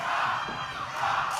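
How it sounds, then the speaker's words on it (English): An OVW wrestling crowd cheering and shouting as a wrestler delivers chops, a dense continuous roar of voices that swells slightly toward the end. "the OVW crowd wants it, and Cash is delivering"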